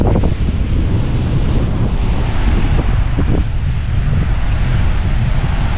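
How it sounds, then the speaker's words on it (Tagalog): Strong wind buffets the microphone continuously at sea, a loud, dense roaring rush with low rumbling gusts and wave-like surges throughout, no speech. "at nalakas na ang hangin"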